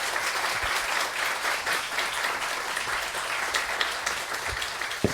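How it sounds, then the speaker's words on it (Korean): A church congregation at a Sunday morning retreat service applauds warmly to welcome the pastor, a dense, steady wash of many hands clapping at moderate distance, sustained evenly through the whole moment. "목사님을 뜨겁게 우리 박수로 맞이했으면 좋겠습니다."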